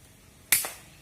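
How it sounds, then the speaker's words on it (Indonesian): A single sharp air rifle shot fired at a squirrel while hunting in the open near bamboo, a sudden near crack with a brief echo trailing after it, heard alone without talk. "yang ditembak Jon barusan"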